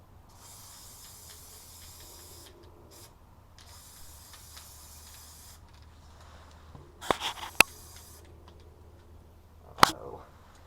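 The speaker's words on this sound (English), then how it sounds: "I'm going to spray over the stencil now" A spray paint can hisses over a stencil in two long steady bursts, with short pauses between them, then gives a few rattling clicks and sharp knocks.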